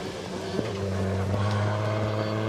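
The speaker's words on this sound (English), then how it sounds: "I'm gonna hear exhaust now." Drift car exhaust at Suzuka Twin Circuit during qualifying, a loud steady engine drone with a sustained low tone, heard from a distance across the track with no voices.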